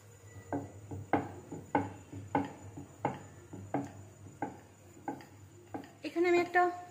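Potato roll dough made with flour and cornflour is rolled out with a rolling pin, giving a steady series of soft, rhythmic thumps and rubbing strokes, close by and fairly quiet, with a brief clatter near the end.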